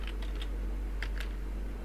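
Computer keyboard typing a line of CSS code, a few quick light key clicks in small bursts, close and clear over a steady low hum.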